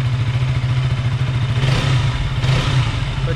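A KTM RC 200 motorcycle engine idles steadily indoors in a showroom, with a deep, even thrum and brief light blips of throttle, close and fairly loud throughout.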